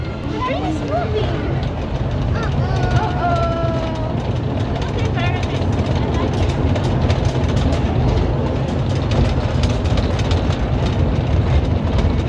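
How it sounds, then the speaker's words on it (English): A kiddie train ride at a mall rolls along with a steady, loud mechanical rumble and rattle, while people talk and a voice sounds briefly early on. "Oh, the train is moving."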